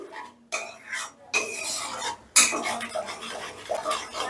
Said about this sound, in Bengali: এবারে কিন্তু দইটা মশলার সঙ্গে বেশ ভালো করে আগে মিশিয়ে নিতে হবে